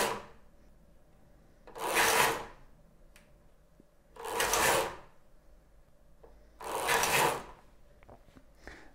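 A Knittax knitting machine carriage is pushed across the needles three times while knitting a sock, each pass a loud rasping slide lasting about a second, separated by quiet pauses.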